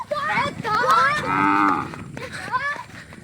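A cow in a village lets out a long, loud, close moo that rises and holds, followed by a shorter lowing call, with no talking.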